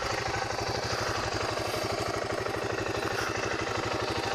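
A 2008 BMW G650 Xmoto single-cylinder motorcycle idles close by with a steady, even thumping pulse and a light mechanical clatter, constant and alone throughout.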